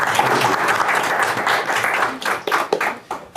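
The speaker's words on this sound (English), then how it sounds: "Give it a round of applause." A room full of people gives a round of applause at a live talk event, thick continuous clapping that stays strong and then thins out into scattered claps near the end.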